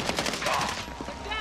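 Rapid bursts of automatic gunfire in a shooter video game, fairly quiet and somewhat distant, dense rattling shots over about a second, then trailing off.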